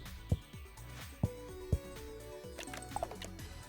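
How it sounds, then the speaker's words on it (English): Horse in the video game Stacklands, with three sharp hoof clops early on followed by a brief whinny-like tonal call among soft game sound effects. "It's a horse!"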